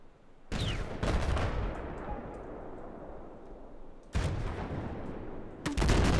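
Gunfire and explosions in a Battlefield 4 multiplayer conquest match with a gunship overhead, heavy booming blasts and sustained rumbling fire that returns in fresh loud bursts, up close and without talk.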